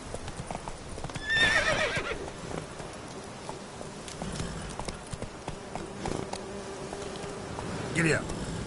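Horse hooves clip-clopping at a steady pace in The Witcher 3 video game, with a whinny early on and insects buzzing faintly in the background.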